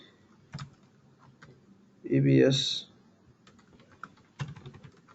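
Keys on a computer keyboard click in sparse, irregular taps, quiet and close, with a brief voice sounding in the middle.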